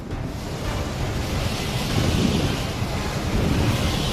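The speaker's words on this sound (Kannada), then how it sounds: "ಆದರೆ ಈ ಸರ್ತಿಯದ್ದು ಬರೀ ಮಳೆಯಲ್ಲ, ಕೇವಲ ಗಾಳಿಯೂ ಅಲ್ಲ, ಅದು ಸೈಕ್ಲೋನ್" Cyclone Vardah's strong wind in Chennai roars as a continuous, loud, dense rush with gusty swells and buffeting against the microphone.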